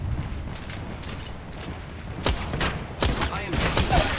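Gunfire in an Apex Legends battle, a few loud distant-sounding bursts and booms spaced a second or so apart over a steady background rumble.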